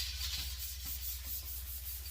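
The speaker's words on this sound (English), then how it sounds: "I'm using red Scotch-Brite because it does have that texture in it, so I wanted to use something a little bit more abrasive" A red Scotch-Brite abrasive pad scrubs a PS5 console part in steady back-and-forth strokes, a close, rhythmic rasping rub with no talking.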